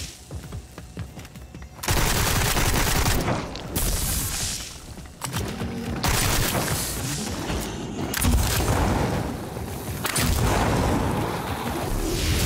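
Gunfire in the Sker Ritual video game sewers as a player shoots rats: loud, dense bursts of rapid shots arrive in several sustained volleys separated by brief quieter gaps.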